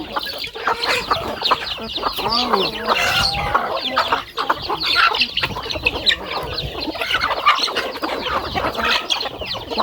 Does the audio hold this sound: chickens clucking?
yes